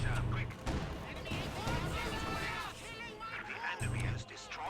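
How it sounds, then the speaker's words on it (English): Anti-tank gunfire in the Company of Heroes 2 video game, set in the Noville encirclement battle: a few heavy booming shots at the start and near the end, with game battle noise and voices talking over it throughout. "A little bit of anti-tank action happening."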